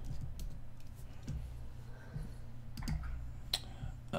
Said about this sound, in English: If I could type today.